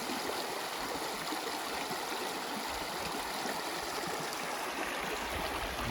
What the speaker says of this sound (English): down here you got this beautiful creek